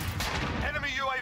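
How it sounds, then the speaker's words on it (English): A grenade detonating in a first-person shooter game, a loud rumbling boom that fills the short moment, with a voice faintly present. "Throwing grenade."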